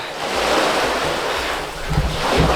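Sea waves surge and wash at a rocky seaside cave on Koh Larn during a storm, a loud, steady roar of surf and wind with a few heavier swells toward the end, with no voices.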